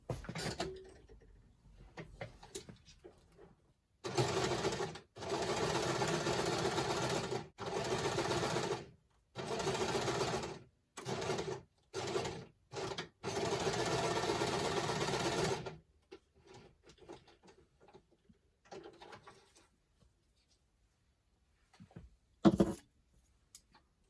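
Sewing machine running a straight stitch in close, loud bursts of rapid whirring, several short runs then one longer stretch, followed by quieter handling clicks and a final knock.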